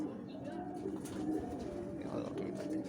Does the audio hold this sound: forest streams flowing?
no